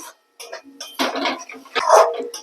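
Mustard spice paste for a fish curry is stir-fried in a pan, heard as intermittent clattering scrapes and taps of a spoon against metal in short bursts separated by near silence.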